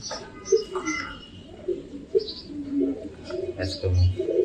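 Pigeons recovering from a winter cold coo softly in low, rolling calls beneath someone talking steadily nearby.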